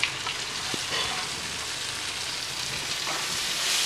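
Curry leaves and coriander frying with brinjal in a hot pan, a steady close sizzle and hiss running the whole time with faint stirring scrapes.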